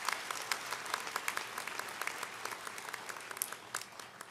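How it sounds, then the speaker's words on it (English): Sustained audience applause for students at a university presidential investiture ceremony, a dense crowd of many hands clapping steadily and fairly loud throughout, with no talk over it. "If you could give them another round of applause,"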